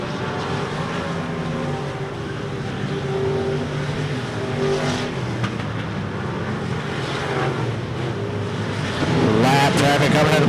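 Race cars lapping an RPM Speedway oval, a dense continuous engine roar with passing cars swelling louder near the end, over a commentator calling the action.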